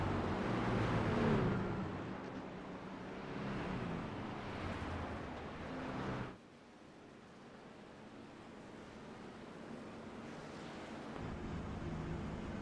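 Truck engine heard from inside Logan Hagerman's truck in a superspeedway racing video game, a steady broadband roar and rush that drops abruptly midway to a quieter, lower drone, with no talk.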